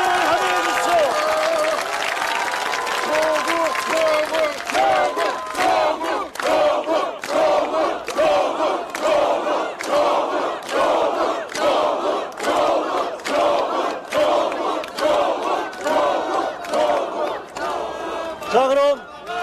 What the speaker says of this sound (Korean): 여러분 큰 박수로 조국 대표를 환영해 주십시오.